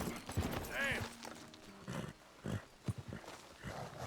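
A horse in the Red Dead Redemption 2 western game, with a brief whinny-like call and a few clip-clop hoof steps heard close by, mixed with someone talking over game sounds and ambience.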